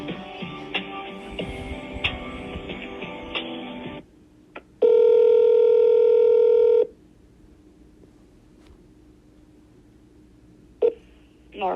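A telephone line plays a steady electronic ring tone during a call transfer, sounding for about two seconds after a stretch of busy line noise, then falls quiet apart from a brief click.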